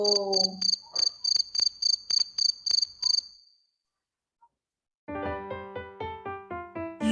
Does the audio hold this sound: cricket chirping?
yes